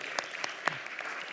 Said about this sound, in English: we deserve a round of applause for that